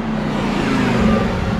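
Lamborghini Huracan STO and McLaren 600LT engines at a drag race, a steady loud roar of engine noise holding throughout without a clear pass or rev peak.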